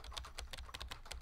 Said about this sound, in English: you have to actually type on the keyboard like you're actually typing